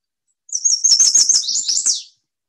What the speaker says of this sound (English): "Please, please, please to meet you," says chestnut-sided warbler.